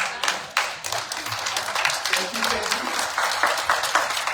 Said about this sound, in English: Thank you for the applause for that presentation.